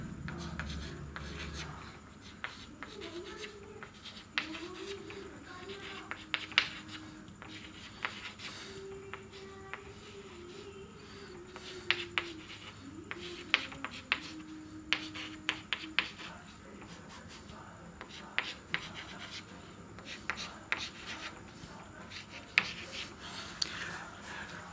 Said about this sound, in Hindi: ये मैं लिख रहा हूं इन्हें।